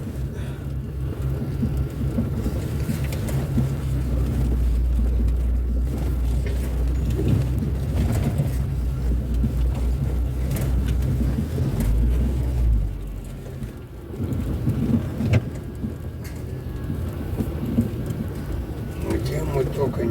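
A car drives toward a dense forest, its engine a steady, loud low rumble with road and cabin noise throughout, easing briefly before building again; faint talk may sit underneath.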